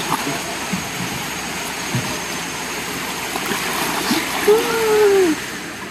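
A river flows steadily over rocks near a campsite, a constant broadband wash with a faint voice briefly rising above it near the end.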